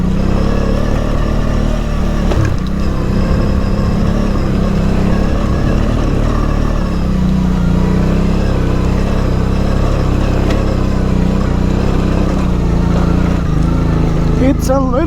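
A Honda Transalp 650 motorcycle ridden in first gear, its engine droning steadily and loudly close by for the whole stretch, with wind rumble mixed in.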